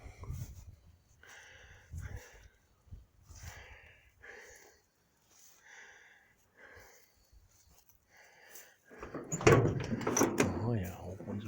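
A door on a 1953 Dodge B-4-B-108 Spring Special pickup truck swings open with a loud metallic clunk and rattle near the end, after stretches of quiet talk nearby.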